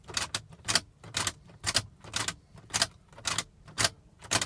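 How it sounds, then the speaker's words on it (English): Ignition key on a 2007 Toyota Avalon turned off and on repeatedly, producing a regular series of sharp close mechanical clicks, roughly paired, about nine in quick rhythm with no voices. "Turn the ignition off to on 5 times."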